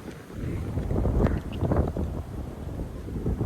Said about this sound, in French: Alors peut-être un petit bruit de vent.